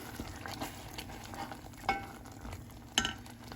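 A pot of Goan moong dal stew, moongacho ross, is stirred. A spoon makes quiet scrapes over a faint background sizzle, with a couple of louder clinks against the pot and no talking.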